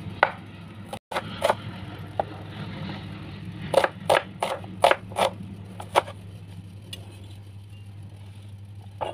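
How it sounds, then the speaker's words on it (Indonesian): Sharp knife strokes chop through an onion on a cutting board, a quick cluster of crisp cuts following a few scattered ones, over a steady low hum in a home kitchen. "Kita potong bawang bombaynya."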